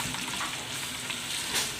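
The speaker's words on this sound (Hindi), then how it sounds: "इसे हम तब तक फ्राई करेंगे जब तक कि अच्छे से गोल्डन ब्राउन हो जाए" Chopped onions fry in hot oil in a pot for rice pulao, giving a steady, fairly soft sizzle and crackle that runs alone for about two seconds.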